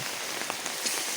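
Rain falls on an umbrella held outdoors during an unseasonal winter shower, making a dense, even patter of close drops. The brief stretch has no voices.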